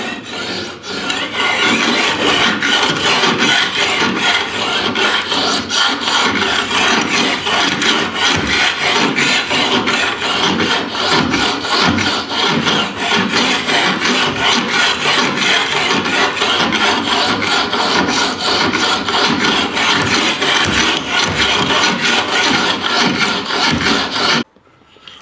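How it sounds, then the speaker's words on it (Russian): A whetstone rasps back and forth along a clamped knife blade in quick, even strokes, loud and close, a dense rhythmic scraping that runs for about twenty-five seconds before stopping abruptly. "И вот так, друзья, камушком начинаем ходить."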